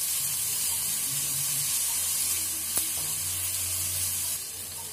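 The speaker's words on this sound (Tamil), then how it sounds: "இதையும் சேர்த்து நல்லா வதக்கி விட்டுக்கோங்க" Onion sautéing with ginger, garlic and green chilli paste in a pan, a broad, even hiss of oil that holds steady and close, with one brief knock partway through.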